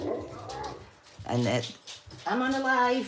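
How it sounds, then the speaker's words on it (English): Dogs bark and whimper close by in a home, bursts of yips and barks overlapping with a person talking. "So if you hear the dogs barking,"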